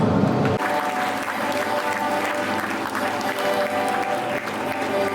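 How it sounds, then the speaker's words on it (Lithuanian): An audience at a Vilnius St. Hubert's Day gathering bursts into loud, sustained applause for a doctor of sciences lecturing on royal hunting. After a brief quieter moment, dense clapping fills the rest of the clip, close and steady. "Ponios ir ponai, jūsų aplodismentai tegul aidi mokslų daktarui Eugenijui Skerstonui."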